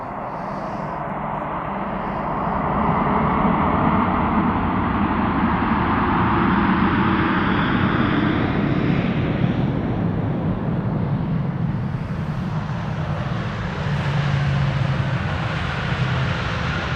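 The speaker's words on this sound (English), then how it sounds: "KLM 100 years, the PHBKA, 5 years old, this one already." KLM aircraft PH-BKA, a five-year-old airliner in KLM 100-years livery, rumbles steadily at Amsterdam Schiphol Airport in winter, a continuous loud broadband engine roar that swells after the first couple of seconds and holds without talk.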